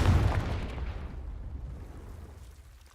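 Blast from the Confringo spell in a Harry Potter video game: a deep, booming explosion that starts loud and rolls off into a long rumbling decay, close and alone.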